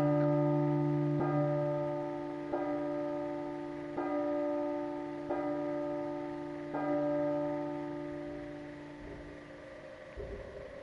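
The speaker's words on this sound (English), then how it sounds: "so bell's tolling" A church bell tolls in a horror video game, giving about six evenly spaced, resonant strikes whose ringing tones overlap and slowly decay, with no voices.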